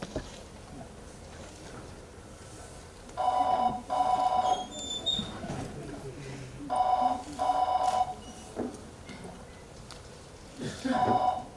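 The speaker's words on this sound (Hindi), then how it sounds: "टेलीफोन की घंटी देर तक बजती रही" A telephone bell rings in repeated double bursts with pauses between them, moderately loud over a faint background hum.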